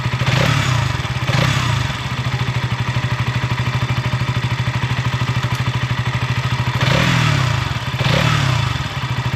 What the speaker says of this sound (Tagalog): So, ito naman yung stock pipe ng Duke 200.